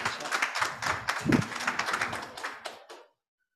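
A church congregation claps together in a burst of applause for God, the clapping dense and steady for about three seconds before stopping into silence.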